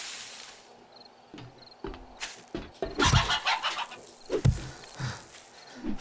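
A chicken clucks in a zombie survival video game during a blood moon night, several short, irregular clucks rising over quiet ambient game noise with soft thuds.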